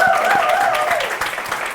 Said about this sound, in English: Just give them a big round of applause for working so hard